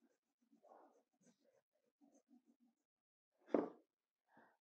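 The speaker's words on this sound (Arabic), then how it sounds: "بنمسك قلم الدم ونقعد نحكه في الأستيكة" An ink pen rubbed back and forth on a plain rubber eraser to clean it, giving soft, scattered scratchy rubs with one louder, sharper scrape near the end, close and quiet with no voices.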